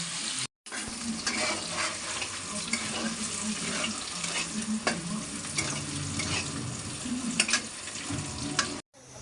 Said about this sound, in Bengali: ডাল বাগার দেব, প্রথমে জিরা দিয়ে দিলাম, মরিচও দিয়ে দিছে 2টা, রসুন আর পেঁয়াজ দেব